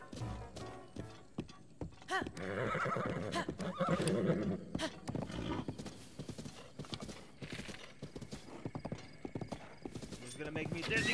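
Horse hooves clip-clop in Zelda: Breath of the Wild, quick galloping beats with a loud neigh, while a player talks excitedly over the game sounds.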